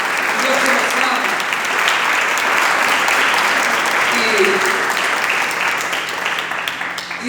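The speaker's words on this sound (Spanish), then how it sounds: "¿Cuánto le pueden dar un aplauso?" A church congregation claps loudly and continuously for several seconds in a live service, a thick, sustained applause with voices mixed in underneath that fades slightly at the end.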